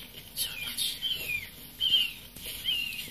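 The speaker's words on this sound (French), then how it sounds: "On peut entendre les oiseaux qui crient." Turkeys or other birds cry in Far Cry 3: a series of sharp, high, downward-sliding calls repeating every second or so, fairly close, over a low background hum.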